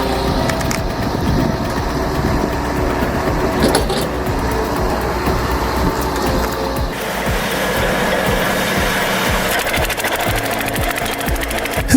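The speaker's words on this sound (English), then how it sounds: "This 150 Rand chipper may be compact, but don't underestimate it. Watch how effortlessly it tears through those logs." A compact 150 Rand wood chipper tears through logs with a loud, continuous mechanical roar. Rattling, grinding bursts break through close-up, with no talking.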